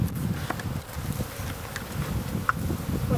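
A package of ten thousand honey bees gives off a steady, close, low buzzing hum with soft rustling and a few brief clicks, no voices present.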